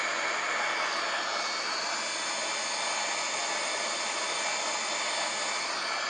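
Engines of a Wizz Air Airbus A330 in Microsoft Flight Simulator produce an even, unbroken roar and hiss that holds steady at a moderate level throughout, with no voices.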